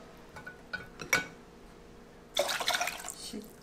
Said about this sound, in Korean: 물 붓고요.